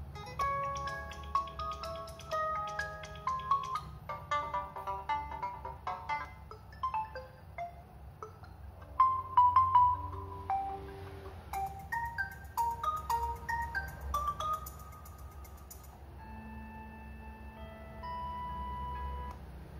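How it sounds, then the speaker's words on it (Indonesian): A series of bright built-in ringtone melodies plays from a Realme C21Y phone speaker, changing tunes every few seconds with chiming, tinkling notes. "kita coba kualitas dari speaker Realme C21Y ini untuk memutar ringtone"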